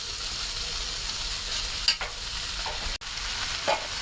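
Taro leaves frying in a pan, cooked with egg: a continuous sizzle broken by a few scraping stirs and one sharp clatter of a spoon against the metal.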